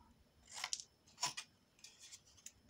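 Scissors snip through the corners of paper for a handmade botanical garden album, with two or three crisp, close cuts in quick succession and no talking.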